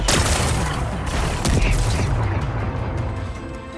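Explosive blasting of rocks in the video game Horizon Forbidden West: a dense, rumbling burst of crackling detonations and debris that stays loud and continuous for several seconds, with no talk.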